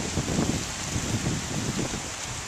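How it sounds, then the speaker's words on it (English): Steady rain pours over a tomato garden, a dense even hiss of drops on leaves and soil with no pauses and no voices. "Here comes the rain."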